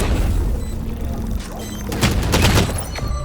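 Sheriff pistol shots ring out in a Valorant match: a few sharp, loud cracks clustered close together in the latter half, over a dense background of game noise.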